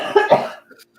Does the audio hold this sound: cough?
yes